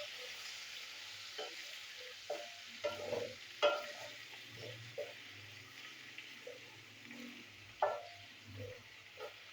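Banana fritters frying in a pan over a low flame give a soft, quiet sizzle under scattered spoon clinks and knocks, with no talking.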